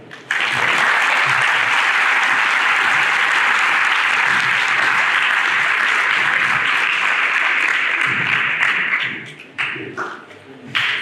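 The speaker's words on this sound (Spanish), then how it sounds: "Recibámosle con un fuerte aplauso." A large audience applauds loudly and steadily at an academic services event in the municipality of Pachuca de Soto, welcoming a speaker. The dense clapping holds for about nine seconds, then thins and fades out.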